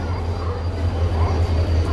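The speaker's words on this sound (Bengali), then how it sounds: "তো ট্রেনটি ঢুকছে বন্ধুরা 19 নম্বর প্ল্যাটফর্মে হাওড়া স্টেশনের।" A train hauled by a WDG diesel locomotive rolls into platform 19 at Howrah station, a steady low engine drone and rumble under faint platform ambience.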